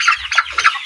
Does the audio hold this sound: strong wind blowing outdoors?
no